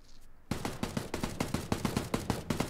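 Automatic gunfire in PUBG: a rapid, evenly spaced burst of about fourteen punchy shots starting abruptly after a half second of quiet, close and steady without letting up.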